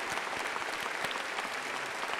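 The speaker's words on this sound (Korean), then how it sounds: "박수하도록 하겠습니다" A church congregation at a Sunday worship service claps together, a dense, even wash of many hands sustained throughout without voices on top.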